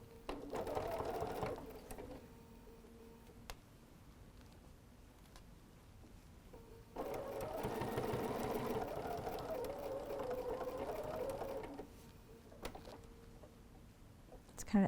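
A domestic sewing machine stitches down a folded star squared hot pad of layered quilting fabric, running in two bursts with a pause between, close and fairly quiet, with soft handling noises in the gaps.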